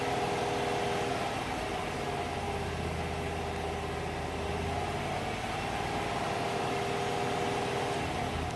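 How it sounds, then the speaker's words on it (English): A 1997 Chevrolet Suburban engine idles while warming up, a steady low rumbling hum with faint vibration, continuous and even throughout, heard from nearby. "Let's put some strain on the motor."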